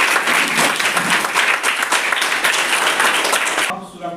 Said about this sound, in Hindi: एक बार जोरदार ताली आप लोग बताइए।